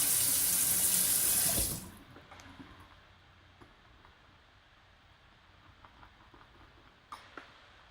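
Water runs from a tap for about two seconds while shave soap is being lathered, then stops, leaving faint wet clicks and small handling sounds.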